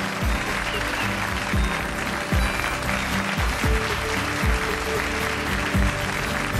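An audience applauds a student at a ceremony, a steady, dense clapping that fills the room and holds for several seconds without talk.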